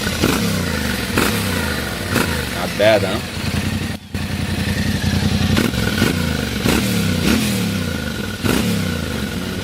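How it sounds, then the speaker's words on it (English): A Yamaha Tenere motorcycle engine runs steadily and loudly close by, with a rhythmic rumbling idle and slight revving, accompanied by a brief voice speaking over it. "The Tenere sounds quite nice"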